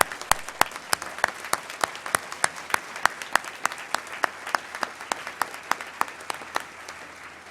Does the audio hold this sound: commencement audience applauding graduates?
yes